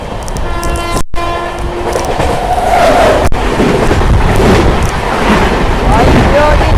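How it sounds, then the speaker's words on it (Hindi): Gomti Express, an Indian passenger train, rolls into a station loop with steady loud rumbling and rail noise, a brief horn-like tone early on, and wind buffeting throughout. "ये आ रही है अपनी गोमती एक्सप्रेस।"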